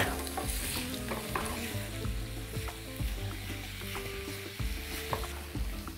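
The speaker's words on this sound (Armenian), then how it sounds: "տապակում ենք" Tender beef sizzles in a pan over chopped onions, stirred with scraping utensil clatter over a steady close frying hiss.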